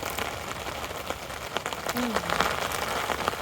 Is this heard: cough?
no